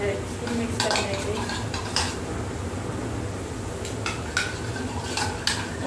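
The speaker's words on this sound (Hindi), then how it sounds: "तो इसमें ये हमने थोड़ा सा नमक ऐड कर लिया है, इसको मिक्स कर लेंगे" A salad with a little salt is stirred in a bowl by hand, giving soft scraping and scattered light clinks of a utensil against the dish at a close, quiet level.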